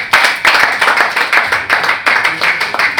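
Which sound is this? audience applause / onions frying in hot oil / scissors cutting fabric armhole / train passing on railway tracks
audience applause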